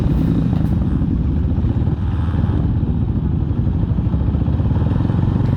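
A large group of big bike motorcycles rides past, a heavy continuous engine rumble, loud and close, holding steady throughout with no talk.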